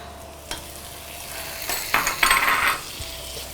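Onions and shallots frying in ghee and oil for Dindigul mutton biryani, a steady close sizzle with stirring scrapes that swell louder midway, no voices.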